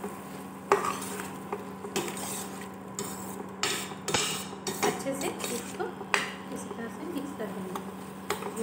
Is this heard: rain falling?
no